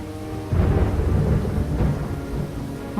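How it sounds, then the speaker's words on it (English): Rain and rolling thunder in the video game Lost Horizon, a low rumbling swell that builds after a brief lull and sustains over a constant wash of rainfall, with no speech. "If it doesn't stop raining."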